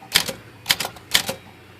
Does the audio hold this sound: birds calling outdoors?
no